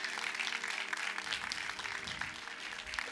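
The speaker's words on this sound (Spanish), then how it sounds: "Denle un fuerte aplauso al Rey." A church congregation clapping for the King during a sermon, a dense, steady patter of many hands heard from a moderate distance and held at low volume throughout.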